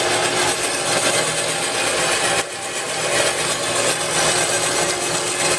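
A Valuemaster 9-inch band saw runs at high speed, giving a loud, steady whirring and rubbing drone that holds throughout with one brief dip midway. No one speaks.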